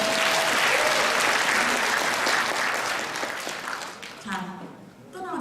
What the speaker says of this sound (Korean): 그것에 동의한 사장들을 위해서 박수 한번 치는 거예요